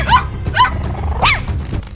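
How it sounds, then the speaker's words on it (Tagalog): Three small dogs barking sharply as they charge at a burglar in a garage, several quick high yaps in close succession, loud and near, mixed with a few dull thumps. "biglang sumugod ang 3 bulilit na aso"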